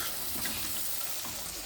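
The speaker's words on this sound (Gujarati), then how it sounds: "દાળનો વઘાર થઈ ગયો છે. મરચું, ધાણા જીરું, હળદર ને ગરમ મસાલો." Dal tempering sizzles steadily with chili, coriander-cumin powder, turmeric and garam masala, a continuous close hiss of frying spices without pauses or talk.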